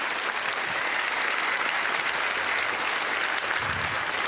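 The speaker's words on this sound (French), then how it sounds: "Je vous demande de l'applaudir, elle s'appelle Zlata" A television studio audience in Mulhouse applauds loudly and continuously, a dense, even wash of clapping with no break and no voices.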